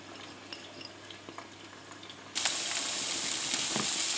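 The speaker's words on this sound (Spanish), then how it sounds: "Y agregamos la cebolla y el ajito." Onion and garlic drop into hot oil in a pan and burst into a loud, steady sizzle halfway through, after a quieter stretch of faint clinks and kitchen noise.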